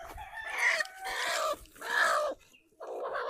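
Free-range country chickens clucking and crowing in a home garden, a hen sitting inside her nest; several close, loud bursts of clucking with brief pauses between them.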